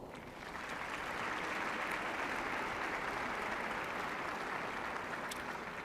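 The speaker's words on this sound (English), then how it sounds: "round of applause" Audience applause at a college convocation ceremony swells within the first second into a broad, even roar of clapping from a large crowd, heard somewhat distantly in a big hall.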